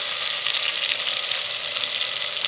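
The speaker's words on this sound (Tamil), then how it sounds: "இதை இப்போ நம்ம இதில் வதக்கிக்கலாம்" Ground shallots sauté in a hot pan for mutton biryani, giving a steady, bright, close sizzle that holds evenly throughout with no voices.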